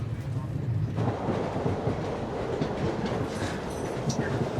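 Steady rumble and rhythmic clatter of a passenger train running on rails, heard from inside the carriage at constant loudness with no clear speech.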